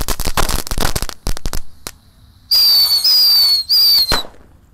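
A pack of red and yellow firecrackers goes off during a Ramadan celebration: a rapid burst of loud sharp cracks and pops, then scattered bangs, followed by shrill whistling fireworks screeching in several long bursts.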